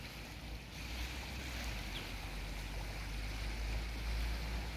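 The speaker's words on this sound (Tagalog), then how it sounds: "Ang lakas ng alon doon." Strong sea waves surge in a steady, unbroken wash of noise on a cloudy morning by the shore, heard from fairly close with no talking.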